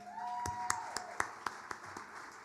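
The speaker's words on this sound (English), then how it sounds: "let's give her a round of applause" A small conference audience gives a short burst of scattered applause, a handful of distinct claps over a couple of seconds, fairly faint and distant with a tone lingering in the background.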